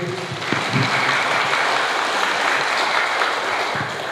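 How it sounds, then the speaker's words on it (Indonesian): Audience at a village head election campaign event in Dadapayam applauds in a dense, continuous wash of clapping, fairly loud and steady throughout. "Monggo beri tepuk tangan untuk Bapak Rofi'i."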